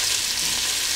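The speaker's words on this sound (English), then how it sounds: "we're just going to fry these onions very gently" Onions fry gently in olive oil in a pan for a beef bourguignon, giving a steady, close sizzle of even, soft crackle with no voices over it.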